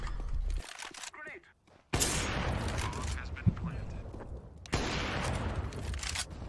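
Bursts of loud gunfire in Fear the Wolves, two long volleys separated by brief quiet gaps, with a single sharp shot in between and a voice speaking over it.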